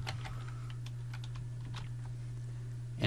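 Typing on a computer keyboard while coding HTML and JavaScript, with quick irregular key clicks over a steady low electrical hum, close and moderately quiet, no talking.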